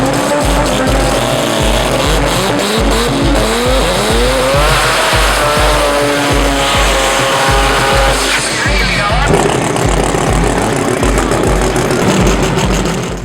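West Racing's Mazda RX-7 drag car with a Microtech-injected 13B rotary engine, a loud, rapid staccato pulsing rotary note with tire squeal and rising revs, close and continuous, with a voice talking over it.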